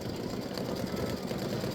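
An embroidery machine stitching the underlay of a Halloween witch design, a fast, steady mechanical chatter that runs continuously and close with no talk.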